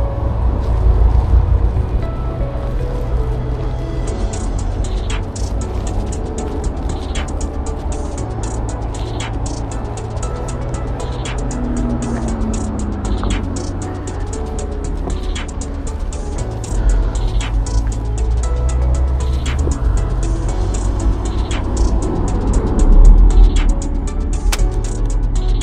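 Cars roll through a puddle on a wet city street in Darmstadt, Germany, giving a steady watery hiss and rumble of tyres, with faint regular ticking throughout and no voices.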